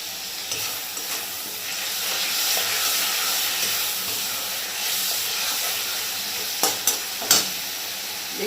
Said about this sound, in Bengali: একটু কষে নেব।